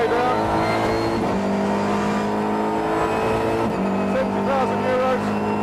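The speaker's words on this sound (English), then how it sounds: "Full throttle upshifts, no need to use the clutch on the way up the gearbox" SEAT Leon Cup Racer race car driven at full throttle, its engine revving hard and steadily, with two brief pitch drops as it shifts up through the gears without the clutch. A voice talks over it.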